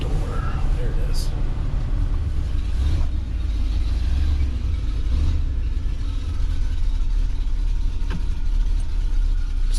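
An old pickup truck engine idling, from a 1981 Chevrolet C10 shortbed or a 1971 Ford F100 4x4, a loud, close, steady low rumble running throughout, with faint voices heard under it.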